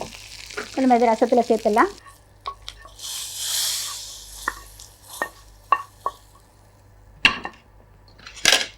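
Spices temper in a hot pan for fenugreek rasam with chilli powder and asafoetida, giving a soft sizzle and scattered clinks of a stirring spoon, with short speech at the start.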